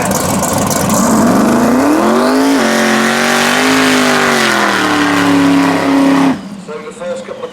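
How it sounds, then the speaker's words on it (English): A road-legal all-out drag car blasts down a sand-surfaced no-prep track, its engine screaming loud and close with rising gear-change sweeps for about six seconds before cutting off abruptly, leaving faint crowd noise. "the quickest and most powerful all-out drag car that just happens to be road legal"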